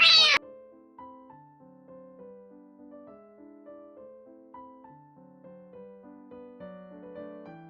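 A single short, loud cat meow opens, then stops abruptly, leaving a soft, plinking melodic tune playing quietly on its own.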